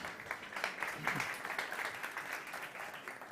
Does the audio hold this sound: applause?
yes